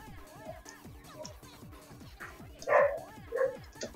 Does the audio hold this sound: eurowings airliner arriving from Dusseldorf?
no